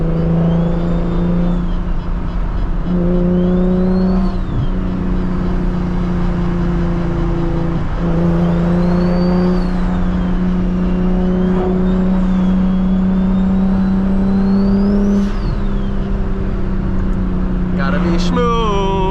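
A 600-horsepower BMW 335is driven at night, a loud steady engine drone from inside the car that rises and falls with revs, with talk over it.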